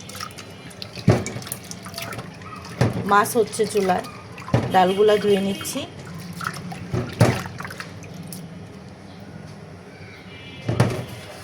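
Lentils are rinsed in water at a kitchen sink, with splashing, trickling and dripping in short bursts. A voice talks over and between the bursts.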